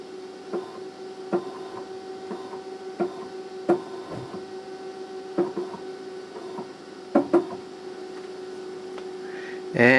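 A DIY 3D printer with a scratch-built extruder feeds filament with a steady motor whine and hum, broken by regular sharp clicks and ticks from close by.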